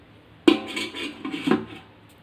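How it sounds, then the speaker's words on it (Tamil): A metal lid clatters onto a pot of fried gulab jamun soaking in sugar syrup, a sharp clank followed by a short rattle and a second lighter clink, close and alone. "மூடி வச்சிடலாங்க."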